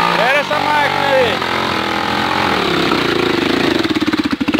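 A motorcycle engine runs on a dirt trail, loud and close, revving and then settling into a pulsing, throbbing idle, with people talking and shouting over it.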